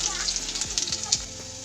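Garlic and five-spice frying in hot oil: a steady, soft sizzle with faint crackles and small stirring clicks, close but fairly quiet, with speech underneath.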